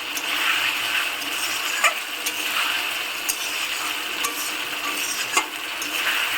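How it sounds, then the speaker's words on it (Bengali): Spice paste for a Bengali fish curry with potato, cauliflower and lentil dumplings being sautéed and stirred in a pan, a steady close sizzle with scraping spatula strokes and occasional sharper clicks, no talking. "এভাবে 5-7 মিনিটের মতন মশলাটাকে কষাতে হবে।"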